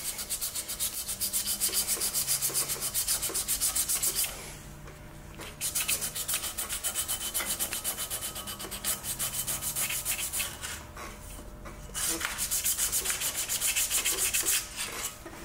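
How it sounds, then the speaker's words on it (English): Sandpaper rubbed by hand over the flywheel magnets of a 1961 David Bradley engine, rapid close back-and-forth scratching strokes in several bursts with short pauses between. "Take a piece of sandpaper and clean these magnets up a little bit."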